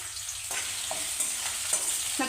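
Chopped onions fry in hot oil for a chicken curry, a steady soft sizzle with a few light stirring scrapes of a spoon against the pan, close and fairly quiet, no talking.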